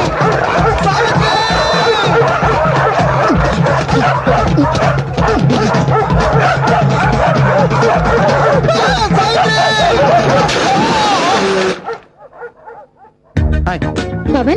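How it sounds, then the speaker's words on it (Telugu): Several dogs bark and yip in a dense, loud burst over a busy comedy-drama soundtrack scene, with laughter-like voices mixed in, before cutting to near silence and a brief return of sound at the end. "కుక్కలు సావిత్రి, అది వెంట పడ్డాయి."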